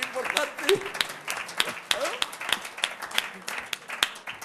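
Scattered, uneven clapping from an audience at a lecture-style award ceremony, sharp individual claps ringing out around a speaking voice that continues throughout.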